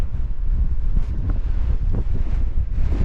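Strong wind buffets the microphone while mountain biking on the Leadmine Trail moorland loop near Derwent Reservoir, a steady low roar with gusty surges and no talk.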